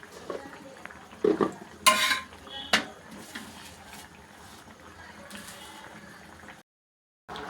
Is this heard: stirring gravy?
yes